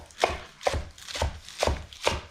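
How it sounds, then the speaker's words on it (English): A knife rough-chops vegetables on a kitchen board, with five evenly spaced, sharp chops that are close and fairly loud, and no voices. "Rough chopping that."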